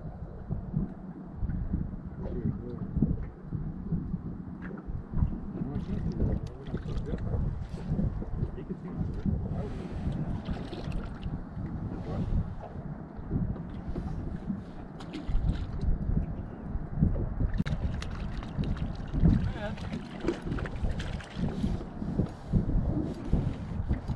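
A fishing boat idles on a lake during crappie fishing, its low steady engine rumble running throughout with wind buffeting the microphone and occasional water sounds.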